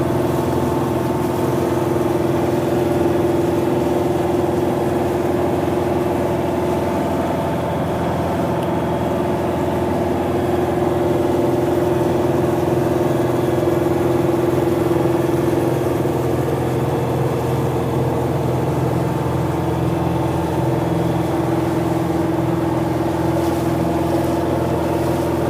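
A 1991 Independent 25-foot diesel trawler with a Yanmar 4JHE engine chugs along in a steady, even drone, heard up close and unbroken, with no talking over the running motor.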